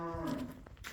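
A bull or cow on a livestock farm lets out a single close, loud moo that fills the clip, with faint farmyard noise around it.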